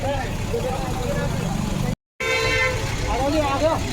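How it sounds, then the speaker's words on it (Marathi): An auto rickshaw arrives near a temple site and sounds a short horn toot through the middle of the clip, while voices talk over steady traffic and engine rumble. "हे बघा इथं ॲटो आलं आहे"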